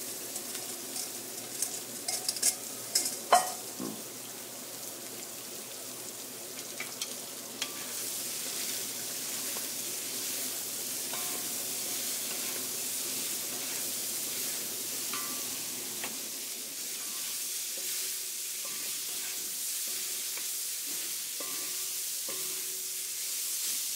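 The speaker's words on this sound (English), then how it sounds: "Alrighty, got our onions, garlic, and ginger." Onions, garlic and ginger sizzle quietly in a hot cast iron wok for a pork stir fry, a soft steady hiss with a few sharp utensil knocks and scrapes early on.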